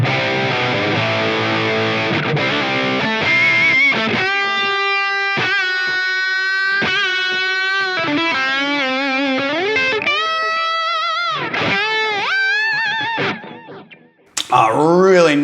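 Electric guitar played through a Line 6 Helix amp model on a PRS Archon lead setting, with searing, smooth distortion. Sustained notes and bends ring out over a long, steady passage with a few short stops, loud and alone before an abrupt ending.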